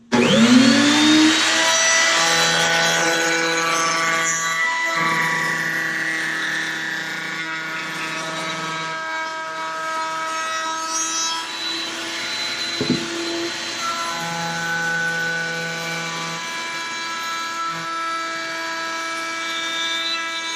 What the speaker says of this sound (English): So we only want to router this top part all the way down.